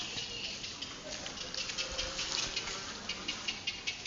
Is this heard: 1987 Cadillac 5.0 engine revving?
no